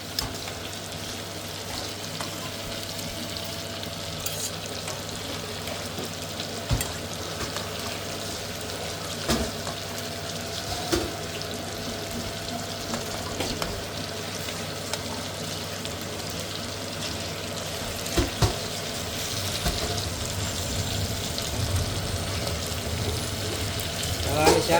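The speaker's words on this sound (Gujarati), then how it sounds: "હવે 4-5 મિનિટ પાછા તેલમાં તરાવા દઈએ પછી આને ફેરવી" Prawns fry in oil for a jinga (prawn) biryani, giving a steady continuous sizzle with occasional crackles and stirring clicks throughout, with faint talk in the background.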